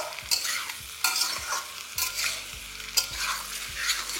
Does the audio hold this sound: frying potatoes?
yes